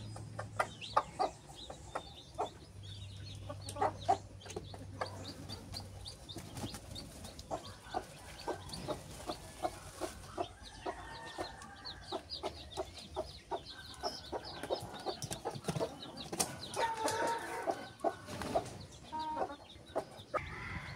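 Joloano breed hens and newly hatched chicks clucking and peeping on the ground, with a steady stream of close, soft chirps and clucks and occasional louder calls.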